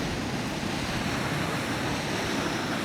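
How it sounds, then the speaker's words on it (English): Huge ocean swells breaking on coastal rocks at a fishing spot, giving a loud, steady wash of surf mixed with gusting wind noise and no speech. "look at the waves."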